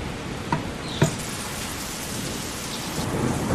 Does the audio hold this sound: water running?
no